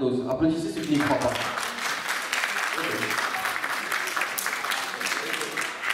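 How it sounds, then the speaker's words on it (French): Audience applause at a live French talk event swells up under a speaking voice, then carries on as a steady, full round of clapping from a sizable crowd. "Applaudissez ceux qui n'y croient pas."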